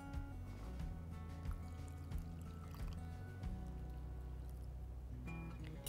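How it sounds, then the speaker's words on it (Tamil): Water trickles and pours into a pot of black chickpea curry, a faint, quiet gurgle of liquid heard close up with no talking over it. "இதுலேயே இன்னும் கொஞ்சம் தண்ணி விட்டுண்டு"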